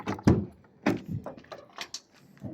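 Sliding and swing doors of a 2021 Toyota Hiace Commuter 18-seater van closing: a couple of solid, muffled thuds with short latch clicks and light rattles, close and clear, with no talk.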